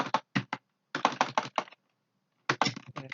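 Quick bursts of computer keyboard typing, entering an IP address into Packet Tracer network configuration, loud and close with short pauses between groups of keystrokes.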